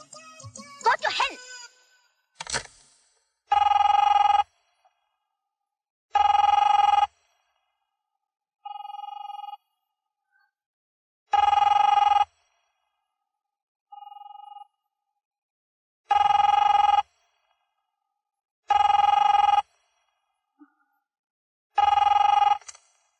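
A telephone ringing in repeated bursts with quiet gaps between them, loud and clear. A brief louder noise comes before the first ring.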